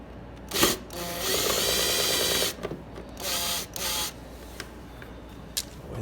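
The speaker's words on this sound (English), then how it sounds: "take the screw all the way out on this clamp" Bursts of a buzzing tool back out the clamp screw on a Suzuki Ozark 250 carburetor, close and fairly loud, with several runs of a second or two broken by short pauses and clicks.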